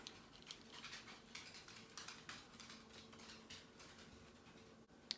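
A pet dog whimpers and pants indoors in a quiet room, soft and close, with no talk over it.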